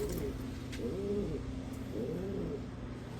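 Pigeon or dove cooing softly in a few low repeated phrases over a steady background hum, fairly distant and quiet, with no talk.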